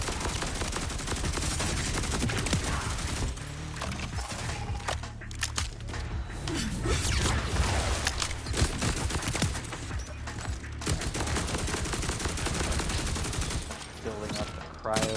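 Continuous rapid assault rifle fire in Borderlands 4, dense and loud with overlapping shots and impacts that barely let up, running steadily as a relentless barrage.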